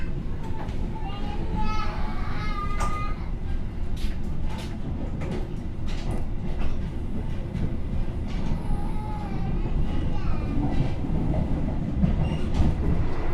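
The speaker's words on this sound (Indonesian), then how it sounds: "kereta api Argo Lawu diberangkatkan dari stasiun Tugu Yogyakarta" The Argo Lawu executive train pulls out of Yogyakarta Tugu station in a continuous rumble and rattle of rolling cars. Station and crowd noise sit in the background, with faint high squeals along the way.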